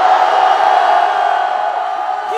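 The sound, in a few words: crowd shouting and cheering at political rally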